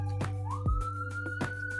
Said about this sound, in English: You guys are going to hear sirens in the background